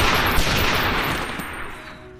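Dense burst of gunfire from an action film, heavy overlapping shots and a sustained rattle, loud and close at first before tapering off, with no speech.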